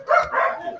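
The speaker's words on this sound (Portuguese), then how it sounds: "Quem é que está aí escutando o cachorro?" A dog barks in a short, close cluster of yapping barks, loud and slightly muffled, with a faint voice-like sound in the background.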